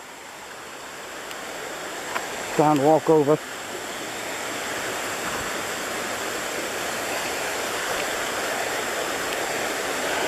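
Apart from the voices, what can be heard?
creek water flowing over a deep pool at a river bend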